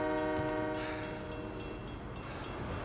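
A train rolls through a railroad crossing with its horn sounding, a loud sustained tonal blare over the steady rumble of rail cars passing nearby, with no voices.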